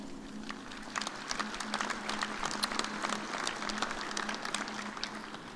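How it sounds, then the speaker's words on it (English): Faint, distant applause from a large crowd at a university graduation ceremony, a continuous patter of many hands clapping that holds steady for several seconds. "Join me, graduates, in giving all of our supporters an applause."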